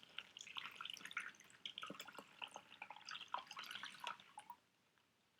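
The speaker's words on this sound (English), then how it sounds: "So here I go with my cup. I'm just pouring the water in." Water is poured from a cup into a Ziploc bag, making a soft, irregular trickle and splatter of drips that stops abruptly, close and fairly quiet.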